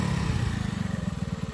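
Small motorcycle engine catching after a little throttle is added, settling into a steady rhythmic idle pulse with slight revving, close and fairly loud, no talking.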